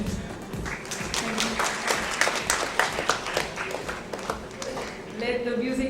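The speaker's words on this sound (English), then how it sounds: "we want an applause from your end." Applause rises from the audience at an education awards ceremony, clapping mixed with loud background music and some crowd voices.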